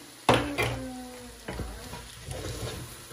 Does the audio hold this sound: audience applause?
no